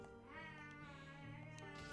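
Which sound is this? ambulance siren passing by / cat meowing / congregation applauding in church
cat meowing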